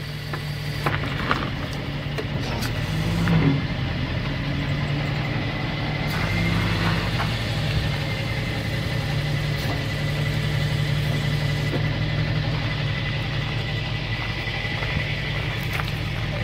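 A Vulcan strapless wheel lift tilts up and raises a car, its steady idling truck engine and hydraulic drone running throughout with a few faint clunks near the start, no talking.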